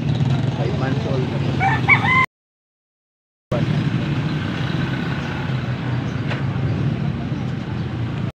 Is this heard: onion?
no